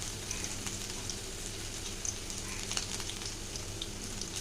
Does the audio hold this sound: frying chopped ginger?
yes